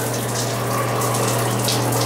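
A hotel shower head at the Luxor in Las Vegas runs with a steady, loud hiss of spraying water and a low hum beneath it, continuous and close, with no voices.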